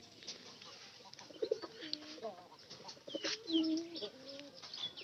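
A pigeon with its wings tied coos softly in short, throaty bursts, intermittent and fairly close, with faint chirps and low background noise around it.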